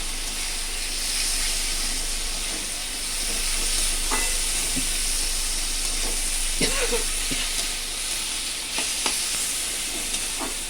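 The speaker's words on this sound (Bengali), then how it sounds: "চালটা বেশ ভাজা ভাজা করে নিতে হবে" Gobindobhog rice fries in a pan with oil, cashews and raisins, a continuous sizzle and hiss broken by several scraping stirs of a spatula, close and fairly loud.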